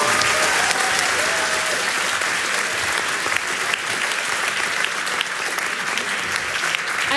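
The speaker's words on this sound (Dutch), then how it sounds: "een heel hartelijk applaus te geven" A warm, sustained round of clapping from the audience at a national student debate event rolls on for several seconds, thick and continuous, with a few faint voices and tones mixed in underneath.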